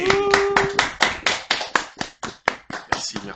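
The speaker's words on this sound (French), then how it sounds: "Est-ce qu'on peut les applaudir?" A small audience claps for two guest performers at a French-language TV show, a loose rhythm of hand claps with whoops, while a voice with a sustained pitched tone is heard near the start.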